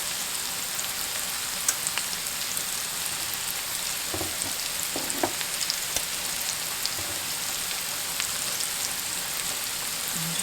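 Okra frying in a pan with pepper and salt gives a steady, even hiss and sizzle with a few faint pops, continuous and fairly quiet throughout.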